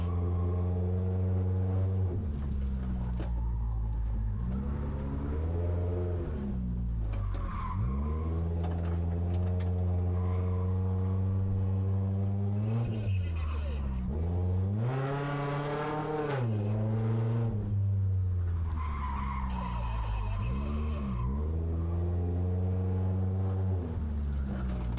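Race cars in a racing video game rev hard throughout, their engine notes sweeping up and down continuously with bursts of tire skidding. The sound is loud, close and constant, with no talk.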